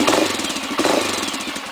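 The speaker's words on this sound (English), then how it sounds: "It's idling a little low right now." A Honda 400EX ATV engine with a freshly rejetted carburetor runs close by, a loud, choppy single-cylinder putter idling low with a slightly uneven pulse.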